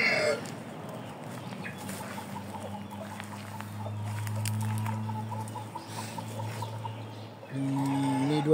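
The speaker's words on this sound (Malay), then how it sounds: "Jom aku nak tunjuk sikit ayam kat reban aku" Shamo and Aseel chickens in a backyard coop give soft intermittent clucks over a scratchy, pattering background, fairly close, with a louder burst of clucking near the end; no talk.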